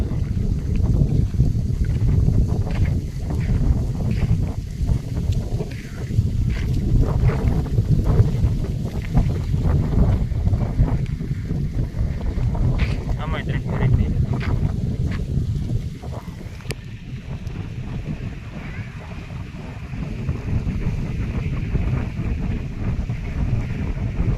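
Strong wind after rain roars across a farm field in Gujarat and buffets the microphone in a steady low rumble that continues for the whole stretch, easing slightly near the end.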